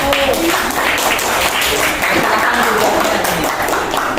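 A crowd applauds with dense, steady clapping throughout, loud and continuous for a few seconds.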